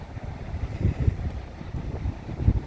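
Wind gusts buffet an outdoor microphone on a hot morning in Qatar, a low rumbling roar that swells and fades unevenly throughout, with no voices.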